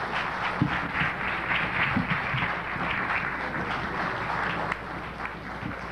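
Applause from an audience at a lecture by Kwame Ture, spread steadily across the whole stretch with some cheering or crowd noise mixed in, holding level and fairly loud throughout.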